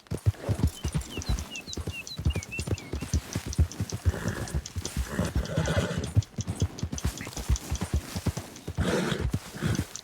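A horse galloping in the Red Dead Redemption 2 video game, quick rhythmic hoofbeats pounding steadily throughout, with a couple of whinnies and snorts breaking in over the running.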